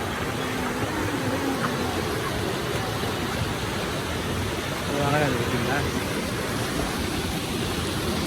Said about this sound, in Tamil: தண்ணி சத்தம் தான்டா கேட்கும்.